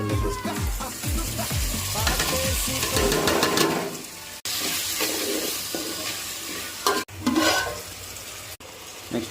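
Tomatoes go into a hot pan with ginger-garlic paste and potato for cauliflower curry, bringing loud sizzling and frying with spoon stirring and scraping, plus several sharp clunks and brief dropouts along the way.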